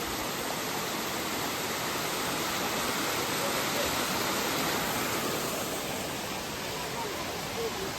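Steady broadband rush of falling water from a waterfall inside the Eden Project biome in Cornwall, continuous and even throughout, fairly close with no distinct events.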